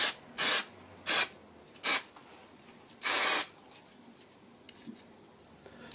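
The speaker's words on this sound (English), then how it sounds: "Spray the glue onto the back of the paper and then just push it onto the block." Four short bursts of 3M craft mount spray adhesive hiss from an aerosol can, the last one longer, with quiet pauses between them and no talking.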